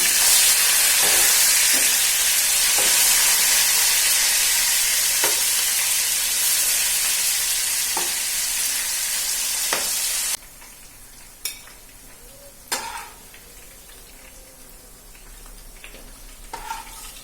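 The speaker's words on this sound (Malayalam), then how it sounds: "മീൻ അവിടെ കിടന്ന് നന്നായിട്ടൊന്ന് മുരിഞ്ഞു വരണം." Fish frying in hot coconut oil for a Kerala-style fish biryani, a steady loud sizzle lasting about ten seconds before dropping to quieter crackles and occasional pops as the pieces are turned.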